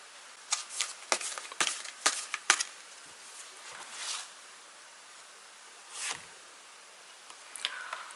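Tarot cards shuffled and drawn for a reading: a handful of quick, close papery slaps and riffles in short bursts, then softer rustles and one more swipe near the end, with no voice.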